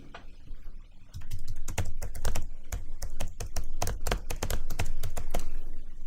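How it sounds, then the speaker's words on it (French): Keystrokes on a computer keyboard come in a rapid, irregular run of crisp, close clicks, with a short pause before the bursts pick up and continue steadily to the end, and no voices. "Je tape quelque chose."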